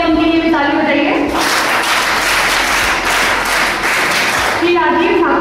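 An audience at a Gagrat project event claps to welcome a village panchayat head; dense applause swells for about three seconds between stretches of amplified speech at the start and end.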